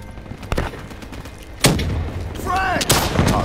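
Gunfire and an RPG blast from Call of Duty Black Ops III multiplayer: scattered sharp shots, then a heavy booming explosion, more shots and game effects layered over a steady background.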